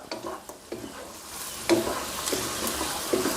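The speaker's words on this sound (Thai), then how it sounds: "แล้วก็ผัดคลุกเคล้าให้เข้ากันครับ" Pumpkin and minced pork stir-fried in a pan, with soft sizzling beneath repeated scraping and clattering strokes of a spatula, close by and fairly quiet, with no talking.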